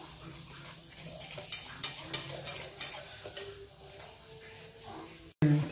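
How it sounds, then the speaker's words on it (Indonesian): Wheat flour and tapioca flour mixed with salt, broth powder and pepper being stirred in a bowl for chicken sausage, soft scraping and tapping strokes in an uneven rhythm, fairly quiet. "Selanjutnya ini diaduk-aduk."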